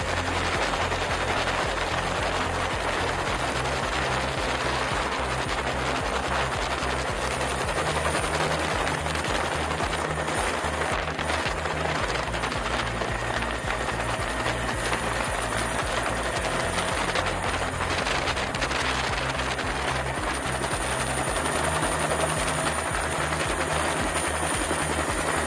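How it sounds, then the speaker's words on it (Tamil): A helicopter flying over a flood rescue operation in Sri Lanka produces a loud, steady, unbroken drone of rotor and engine noise that stays constant throughout, with no voices. "ஹெலிகாப்டர் பிரிவு ஒன்று மீட்பு பணியில் ஈடுபட்டுள்ளமை குறிப்பிடத்தக்கது"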